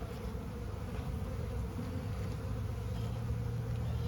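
Honey bees buzz at a hive in a dense, steady hum close by, with no voices.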